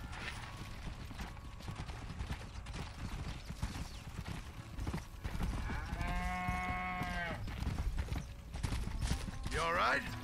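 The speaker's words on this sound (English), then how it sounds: "There's all these random horses around." Horses amble around a farm in the Red Dead Redemption video game, soft hoof clip-clops running steadily under busy game ambience, with a cow lowing midway and voices talking.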